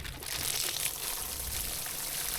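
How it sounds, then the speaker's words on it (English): Steady broadband rush of water being poured into chicken feed for fermenting, continuous and fairly loud for a couple of seconds, with no voices. "Then once that is done, I add water."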